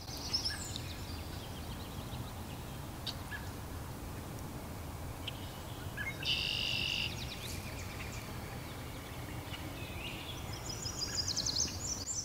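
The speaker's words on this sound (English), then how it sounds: "All the birds are just chirping." Birds call and chirp along a river shoreline during urban paddling on the Welland River in Ontario, with a few brief high calls over a steady low background wash, no talking.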